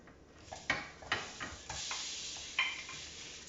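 Onions going into warm coconut oil in a pan, faint soft sizzling with a few scraping stirs and light utensil taps, quiet and close with no talking.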